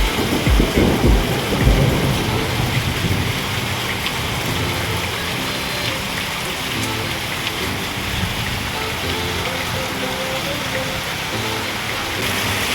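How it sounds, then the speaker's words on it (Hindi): Heavy rain pours steadily over a village, a loud, dense hiss that fills the whole stretch, with low thunder rumbles strongest near the start. "बहुत जोरे वर्षा हो"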